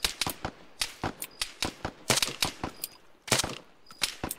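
Rapid cracks of rifle fire in Arma 3, a string of sharp shots in irregular bursts, fairly close and loud, with a few short pauses and no talking.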